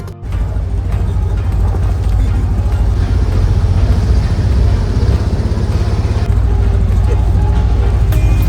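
A 4-wheel drive jeep rumbles loudly and steadily on a bumpy trek up Mount Batur, its engine droning close throughout with rattling jolts; voices murmur faintly beneath the noise.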